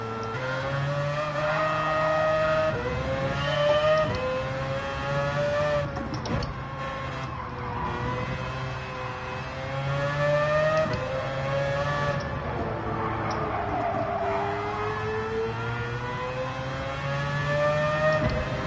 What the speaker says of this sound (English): Your own engine sound in the tunnel can sometimes make you think there's someone right on your ass area, but it's not. It's your own engine.